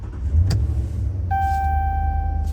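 A RAM 1500 pickup truck's engine starts with a low idling rumble after a brief click, then a steady electronic dashboard chime sounds over the engine. It is close and continuous with no talking.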